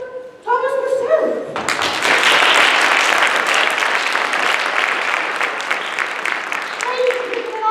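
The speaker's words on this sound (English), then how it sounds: "a warm round of applause, if you will, for our orchestra" A theatre audience breaks into warm applause for the pit orchestra at a musical performance, dense clapping rising sharply after a brief spoken line and holding steady until a voice returns near the end.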